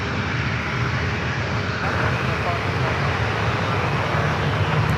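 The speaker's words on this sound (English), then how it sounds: "That 777 and getting closer." A Boeing 777 airliner approaching San Francisco airport roars continuously with a broad, loud jet engine rumble, while a voice talks over it.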